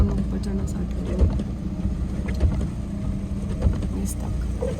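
4x4 car engine revving as it climbs a snowy road in a Manali snowstorm, a steady low engine drone with tyre rumble, with voices talking over it.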